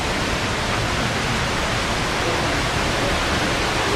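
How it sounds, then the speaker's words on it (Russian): Elephant Falls waterfall in Dalat, Vietnam, heard up close as a loud, unbroken roar of rushing water with no other sounds standing out. "Пробираемся под слоновий водопад."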